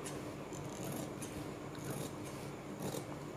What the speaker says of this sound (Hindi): ये सिलाई लगाने के बाद हम थोड़ा बाहर बाहर से इसकी कटिंग करते हैं।